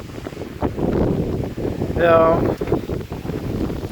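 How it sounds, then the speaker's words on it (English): Heavy wind buffets the microphone in low, rumbling gusts, with a brief word spoken midway. "It's pretty windy. I'm sure that's probably all you can hear."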